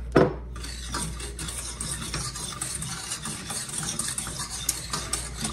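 Milk mixture being stirred in a pot over moderate heat, an initial clatter followed by steady soft scraping and swishing strokes with faint sizzling underneath, close and continuous.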